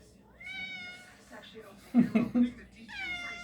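A cat meows several times, drawn-out plaintive calls with one louder yowling burst in the middle, close by, with people's voices alongside in a casual indoor setting.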